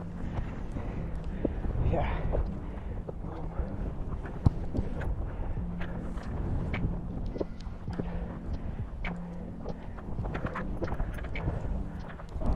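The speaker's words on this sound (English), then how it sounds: "It's very windy up here" Strong wind buffets the microphone on the Yr Wyddfa (Snowdon) summit in Snowdonia, Wales, near 1085 meters in fog, mist and rain, a constant low roar with gusts, while a hiker speaks briefly.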